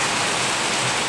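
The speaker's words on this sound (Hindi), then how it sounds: "बहुत ही तेज़ ही बारिश होने लगी है" Heavy rain pours steadily in Dehradun, a dense, unbroken hiss that fills the whole moment with no pauses and no voices.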